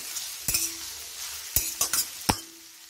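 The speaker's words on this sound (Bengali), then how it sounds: "ভালো করে মিশিয়ে নেব লবণটা" Salt being stirred into pasta water in a pot: a few sharp clinks of a spoon against the pot, in quick bursts over a soft, steady background hiss, close and fairly quiet with no talking.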